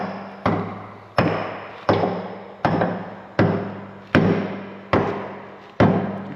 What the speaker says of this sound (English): You're hitting it at a very awkward angle. Maybe you need a bigger hammer.